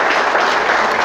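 Applause from a church congregation during a worship service fills the space, a dense, steady wash of many hands clapping without pause for about a second.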